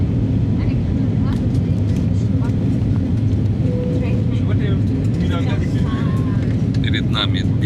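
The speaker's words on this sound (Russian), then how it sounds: "Сейчас мы идем на взлет, набираем скорость." Airliner taking off from Tbilisi, its engines building to a loud, steady roar that fills the cabin as it speeds down the runway, heard from inside near the tail, with people talking faintly over it.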